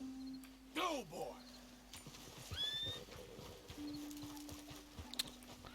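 A horse in the Red Dead Redemption 2 video game gives a sharp, close whinny, followed by soft clip-clopping hooves and faint in-game ambience, moderately quiet overall.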